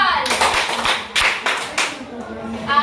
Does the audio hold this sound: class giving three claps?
yes